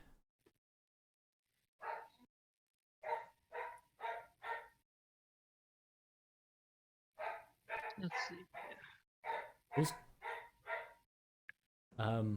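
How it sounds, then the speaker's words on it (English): A dog barks in short bursts of several quick barks, heard in the background of an online Dungeons & Dragons voice session while people talk. "I can hear your dog."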